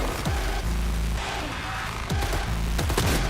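Gunfire in the game Cyberpunk 2077 Phantom Liberty comes as several loud, sharp shots over a dense, constant din of combat noise, with low droning underneath.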